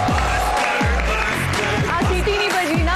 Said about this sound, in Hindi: आप सबकी तालियों में तशरीफ लाते हैं डॉक्टर।